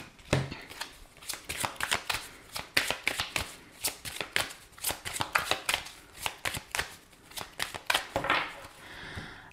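Oracle cards are shuffled by hand in a quick series of crisp riffling flicks and slaps, close and moderately loud, repeating irregularly for nearly ten seconds with no talking.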